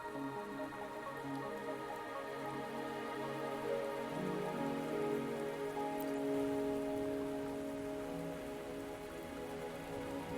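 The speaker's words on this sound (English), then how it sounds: "Are you trapped here by the rain?" Steady rain pattering on surfaces in the video game Wuthering Waves, soft and continuous with layered musical tones underneath and no voices.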